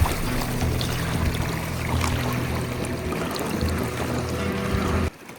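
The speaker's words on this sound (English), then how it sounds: "But it's like really windy, look." Strong wind rushes and buffets across open water around a kayak, with lapping and trickling water close by, before cutting off abruptly at the end.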